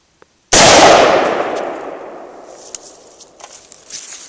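A single sharp rifle shot, a 5.56mm or 30-06 round fired into a hard drive, cracks out loud after a brief silence and rolls off in a long echoing decay, followed by faint clinks and small knocks.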